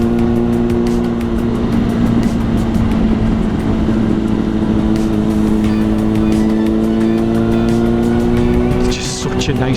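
Yamaha Fazer FZ6 motorcycle on a long road rally ride, its engine droning steadily and loudly with a sustained tone throughout, wind rushing over it, and a voice talking beneath.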